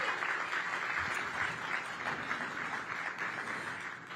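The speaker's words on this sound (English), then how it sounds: "Give Latrina and the DMPED team a big round of applause." Sustained applause from an outdoor groundbreaking audience, a dense wash of many hands clapping at moderate distance, holding steady throughout without speech.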